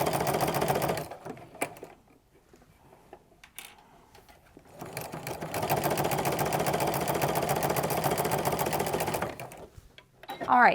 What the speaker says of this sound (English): you need to clean out underneath your sewing machine